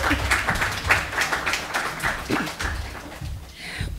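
An audience applauds at an evening gathering for a 2019 Joe Jones mural. The clapping is moderately quiet and fairly distant, a continuous patter of many hands with faint voices mixed in.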